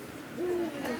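A great horned owl gives a single low hoot close by, a short soft tonal call over a quiet room hum.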